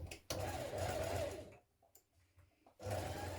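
Sewing machine stitching a tier onto a dress skirt with a stretch stitch, a steady close whirring run that stops, a quiet pause with small handling noises, then the motor starts again.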